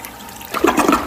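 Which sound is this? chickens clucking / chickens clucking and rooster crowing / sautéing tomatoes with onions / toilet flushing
toilet flushing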